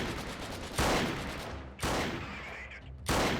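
Three heavy rifle shots in Freeman: Guerrilla Warfare land about a second apart, each loud and booming with a long rumbling tail that fades before the next.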